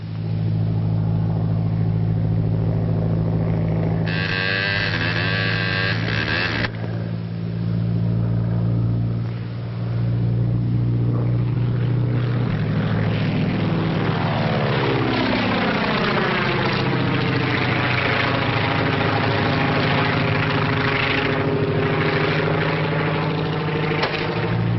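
A small kid's propeller plane fitted with a smoke attachment drones overhead, a steady engine hum that swells and then sweeps past with a shifting pitch, loud and continuous throughout.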